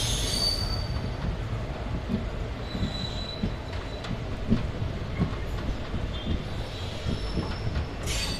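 A passenger train rolls into Kanyakumari station in India, with steady rail rumble and wheel noise carrying throughout and high metallic wheel squeals rising near the beginning and end.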